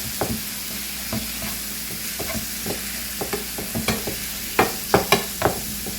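Meat browning in a pan, a steady close sizzle broken by repeated scraping and stirring knocks that grow louder toward the end, with no voices.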